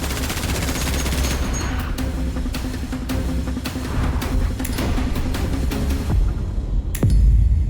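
A zombie outbreak horror drama with bombs thrown at mutants: rapid, dense gunfire crackles nonstop at close range, then a deep, heavy explosion booms near the end.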